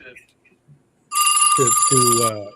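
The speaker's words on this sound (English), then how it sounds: "That's a phone." A telephone rings loudly with a bright, steady electronic trill that starts abruptly after near silence, while a voice talks over it.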